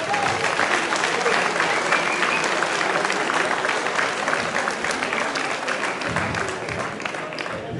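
Sustained crowd applause at a rally prize-giving ceremony, a dense wash of many hands clapping evenly for several seconds, loud and close, fading slightly toward the end, with some voices faintly mixed in.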